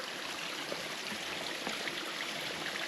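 Small waterfalls in Linville Gorge wilderness give a steady, broadband rush of moving water, even and continuous throughout, with no voices.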